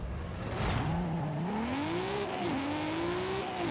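Race cars, including a Formula D Supra, accelerating in the Forza Horizon 5 video game: a steady, loud engine roar whose pitch climbs through the gears with brief dips at shifts, close and continuous, with no talking.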